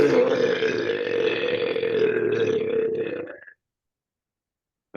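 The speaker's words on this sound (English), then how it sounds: "I'm working on my belch. Would you like to hear a good one?" A deliberate, long, loud belch from a man runs unbroken for about three and a half seconds and then stops abruptly into silence.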